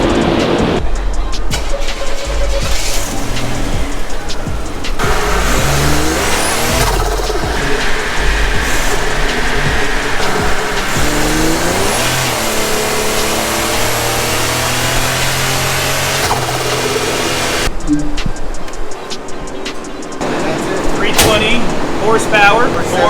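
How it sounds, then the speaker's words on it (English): A Buick Grand National running 18 pounds of boost revs on a dyno, a loud continuous engine roar with whining and rising pitch, a voice talking briefly near the end. "So we just finished dynoing the car."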